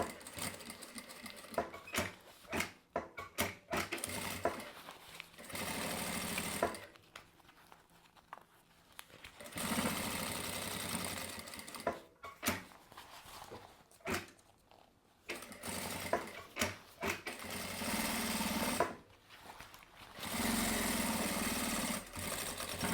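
A sewing machine stitches fabric lining for a panel, running in close, loud whirring bursts separated by short pauses and quieter stretches.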